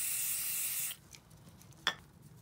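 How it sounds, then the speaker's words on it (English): Cleaner and primer sprayed from a can onto screws during a Central Pneumatic 3-gallon air compressor cylinder rebuild: a close steady hiss for about a second that cuts off, then faint handling and one brief click. "We're gonna put a little bit of clean and prime on these screws."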